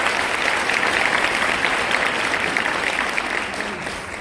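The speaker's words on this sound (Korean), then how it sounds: "여러분들 스스로에게 한번 박수 한번 주시겠어요?" An audience at a Korean business seminar applauds loudly and steadily for about four seconds, with the clapping tapering off slightly at the end.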